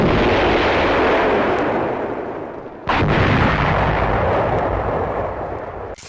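A Panzerfaust anti-tank round detonates in a heavy, booming blast with a long rumbling roar, then a second loud burst follows and rolls on to the end.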